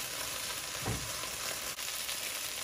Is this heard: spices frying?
yes